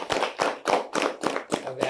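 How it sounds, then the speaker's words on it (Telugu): Rhythmic hand clapping from an audience honoring a guru at a spiritual talk, about seven evenly spaced claps, close and moderately loud, with no talking. "ఒకసారి ఆ గురువుకి ఒకసారి చప్పట్లు కొడదామా?"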